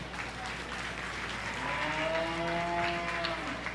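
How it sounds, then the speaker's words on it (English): An audience at a 4-H beef show claps in sustained applause, close and moderately loud, with a cow mooing briefly through the clapping. "let's go ahead and give this group a really big round of applause."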